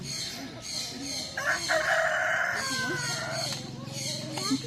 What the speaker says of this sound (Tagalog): Sila po ay tinatawag na Rhode Island Red.